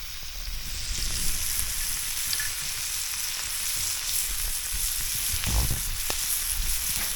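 Moose bologna sizzling in a cast iron pan, a steady crackling fry with scattered pops and a faint scrape, close and even throughout.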